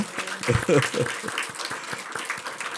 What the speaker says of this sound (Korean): 한번 박수를 먼저 치고요